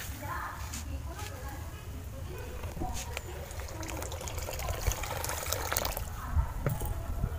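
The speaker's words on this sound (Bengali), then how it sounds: "আমি আরও একটু জল দেব" Water pours from a tap or vessel into a pan of sago for sago chips, a steady trickling gush running the whole time with kitchen clatter over a low background hum.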